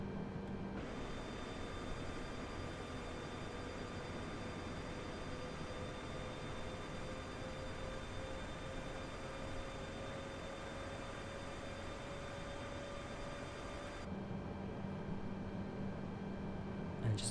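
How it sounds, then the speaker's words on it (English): An Airbus A320 auxiliary power unit spins up at the back of the airliner in Microsoft Flight Simulator, a steady broadband roar with a slowly rising whine that holds for most of the clip, then cuts to a quieter hum near the end. "In just a couple of moments we'll be able to hear the APU engine starting up at the back of the aeroplane."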